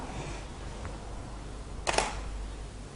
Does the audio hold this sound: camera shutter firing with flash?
yes